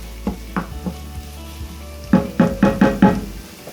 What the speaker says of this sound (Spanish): y lo ponemos a sofreír.